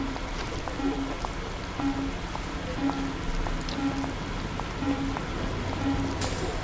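Rain falls steadily in the Bus Driver video game, a constant soft hiss with a faint repeating tone pattern under it, no voices.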